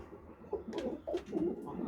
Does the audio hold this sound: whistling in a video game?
no